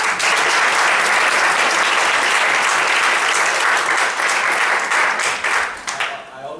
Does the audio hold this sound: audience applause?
yes